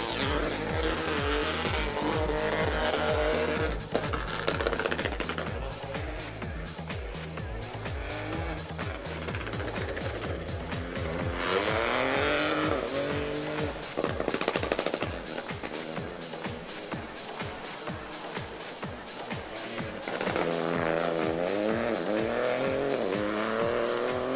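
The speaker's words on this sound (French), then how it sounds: "Maurice et Pierre-Alain sont au volant d'une Peugeot 208 Rallye 4. Et ils vont partir d'ici 2 secondes, 1 seconde." A Peugeot 208 Rally4 rally car launches from the start of a special stage at Champéry during the Rallye du Chablais, engine revving hard through rising gear changes with rapid popping and crackling bursts, loud and close, then fading down the road.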